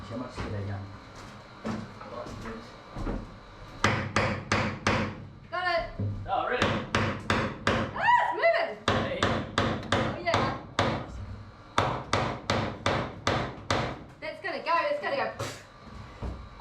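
A hammer strikes a timber marine double-glazed window frame in quick, rhythmic runs of loud wooden blows, close by, with short breaks between bursts.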